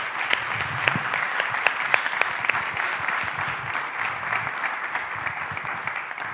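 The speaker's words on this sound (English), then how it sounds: "let's give a round of applause" Audience applause at the close of a university talk on polling and the 2024 elections, with sharp individual claps standing out over a dense, sustained roomful of clapping.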